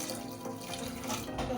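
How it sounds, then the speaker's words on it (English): Water poured from a tap into a pot of washed tomatoes, a steady close splashing stream that runs throughout this short moment. "I'm going to add water,"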